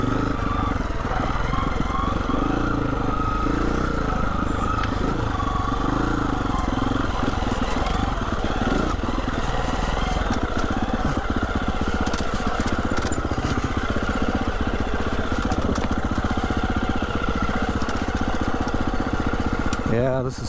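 A Husqvarna motorcycle ridden down a snowy mountain trail, the engine droning steadily and close throughout with rattling and clatter from the bumpy ground, a rider's voice talking over it at times.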